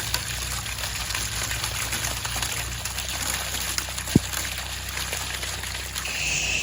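An 8-gallon-per-minute pressure washer sprays water for a house wash, giving a steady, unbroken hiss over a low mechanical hum, with one brief knock partway through.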